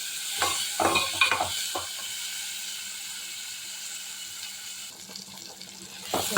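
Onions and tomatoes sautéing in a pan for crab gravy, a soft steady sizzle with clattering stirring bursts early on and again near the end, fairly close with no voices.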